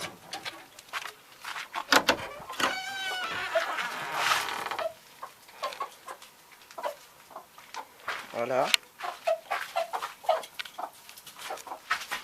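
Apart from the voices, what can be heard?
chickens and rooster clucking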